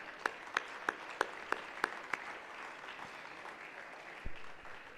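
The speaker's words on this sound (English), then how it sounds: "we need to give them a round of applause" A round of applause from a lecture audience: a few sharp, separate claps up front, then a soft, thin patter of clapping spread through the hall, faint and distant.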